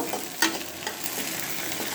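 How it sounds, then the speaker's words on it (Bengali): Onions frying in a pan, a short burst of close sizzling with a sharp stir or scrape near the start and softer crackle after. "এখন ভালো করে একটু ভাজা করে নিব"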